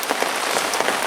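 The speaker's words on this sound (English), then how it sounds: "The rain has eased off a bit, but not by much." Rain falls outdoors at a carp fishing lake, a brief burst of close, dense pattering hiss with scattered drop impacts and no voices.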